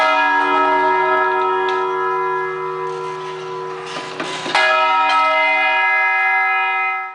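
Church bells ring in São João del Rei, Brazil, sustained metallic tones with a fresh strike midway, loud and resonant, then ringing out and decaying at the end.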